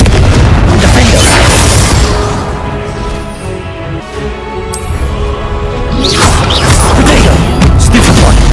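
Confringo spell explosions in Hogwarts Legacy, loud booming blasts with a crashing rumble that fades mid-way before another heavy burst swells back up.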